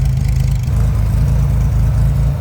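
Air-cooled six-cylinder engine of a 1963 Chevrolet Corvair Monza 900 convertible idling with a loud, steady low rumble and rhythmic exhaust pulses, heard up close with no voices.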